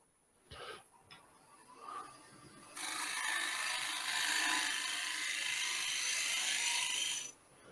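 A scraper held at a shear angle on a slightly angled wooden surface gives a few light taps, then one long, steady, rasping scrape lasting several seconds, close and clear with no talking.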